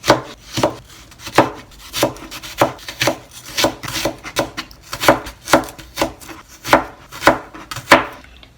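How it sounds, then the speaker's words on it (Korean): Carrots cut with a kitchen knife on a board, about sixteen crisp chops in a steady, evenly spaced rhythm, close and clear with no talking. "거의 이 정도 두께로 잘라줄게요."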